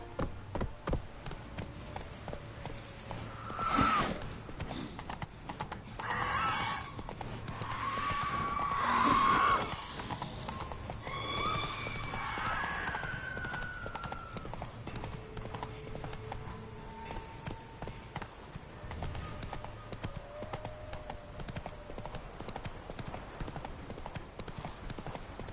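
Roach the horse galloping in The Witcher, a fast steady clip-clop of hooves running throughout, with brief voice sounds and game effects over it.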